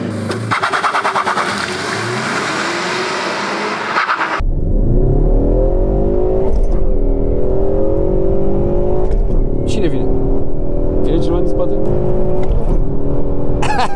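A 2019 Ford Mustang, rear-wheel drive, revs its engine for a launch-control start and then accelerates hard, its roar climbing through the gears, while people talk inside the car.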